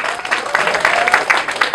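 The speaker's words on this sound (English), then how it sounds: "I think he deserves a better round of applause than that." Audience applause at an award ceremony and dinner, a brief burst of dense hand clapping from a crowd at moderate distance.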